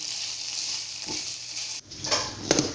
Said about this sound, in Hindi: ये चिकन भून रही हूँ।